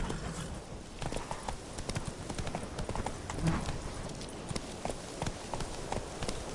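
Roach, the horse in The Witcher 3, galloping with steady, rapid hoofbeats that carry on throughout, fairly close and continuous over ambient game background.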